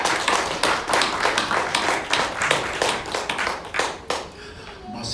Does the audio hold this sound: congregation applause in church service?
yes